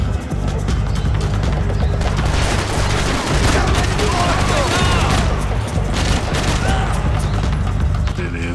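Dense, continuous gunfire in the third-person shooter Max Payne 3, rapid overlapping shots and impacts filling the whole stretch, loud and busy with no pauses.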